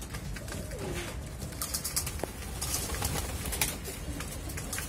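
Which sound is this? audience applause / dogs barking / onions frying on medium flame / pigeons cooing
pigeons cooing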